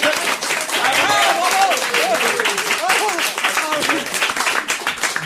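A television studio audience bursts into loud, sustained applause and cheering for a standing ovation, dense clapping filling the room while a voice calls out over it.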